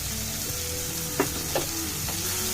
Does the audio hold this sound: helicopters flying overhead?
no